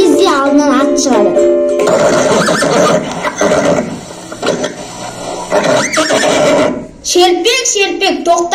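A horse neighs in a children's stage play of a folk tale, a loud, close, shrill whinny that rises and trembles, followed by lively voices talking and calling over the rest of the scene.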